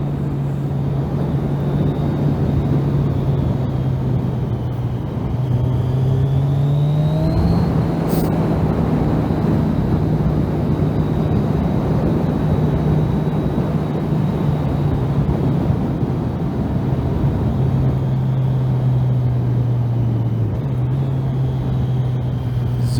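Motorcycle riding on an open road through corners after a bump, a steady loud engine drone with wind roar throughout, the engine pitch rising briefly mid-ride then settling, no talk.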